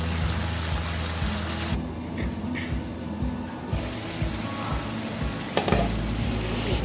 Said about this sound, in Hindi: मज़ीद 2 मिनट इसको मैं तेज़ आंच पे भूनूंगी